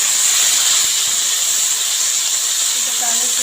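Boiled vegetables stir-fried with salt in a hot pan, a steady loud sizzling hiss running unbroken throughout with no voices.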